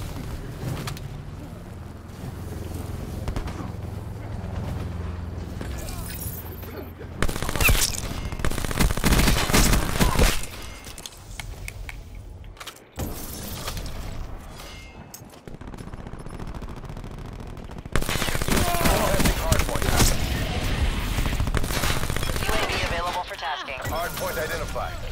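Video game gunfire shoots through walls during a multiplayer match, with heavy bursts of automatic fire in two loud stretches amid game noise, and a player talking throughout.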